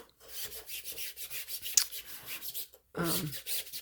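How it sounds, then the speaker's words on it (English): Hands and fingers rubbing across the surface of a wooden Americana home decor sign, smoothing it in repeated soft rasping strokes, close and clear, with a brief pause before a louder final pass. "what I'm doing right now is I'm smoothing this over with my hands, my fingers, trying to make sure there's not any little lumps or bumps"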